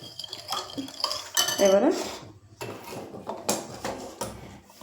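Oil poured into a bowl of milk and sugar mixed for a soft zebra cake, with clinking of a utensil against the bowl and scraping stirs, close and brief, alongside a short spoken word.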